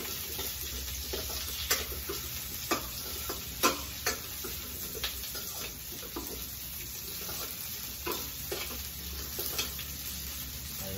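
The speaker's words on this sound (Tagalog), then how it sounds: "yung green pepper, isasama ko sa gisa guys" Green pepper stir-fried in a pan for chopsuey: a steady sizzle of frying with scattered clicks and knocks of a utensil stirring, close and alone, no voices.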